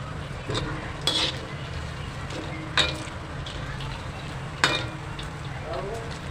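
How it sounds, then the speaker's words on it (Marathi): Farali fasting nuggets frying in hot oil in small batches, giving a steady sizzle close by, broken by a few sharp clinks of a utensil against the pan. "थोडं थोडं घालूनच फ्राय करा चांगलं"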